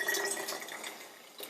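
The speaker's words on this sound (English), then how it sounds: "I'm going to pour in half of this Monster Energy drink" Monster Energy drink poured from a can while mixing a Liquid Heart Attack, a steady splashing liquid stream lasting about a second and a half, fairly close and without speech.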